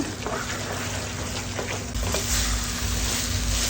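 Biko, Filipino sticky rice cake, stirred in a pan: a steady close sizzle and thick scraping churn running without pause, no voices.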